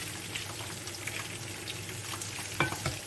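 Tomato-based sauce for an aubergine and meatball tajine fries quietly in a pan with a soft, continuous crackle and a few light stirring taps near the end.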